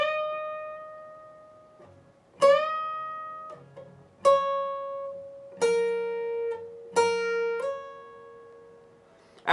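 Slow run through part one of a solo on clean electric guitar, five or six picked notes that ring and fade with short slides and hammer-ons, played alone at moderate volume.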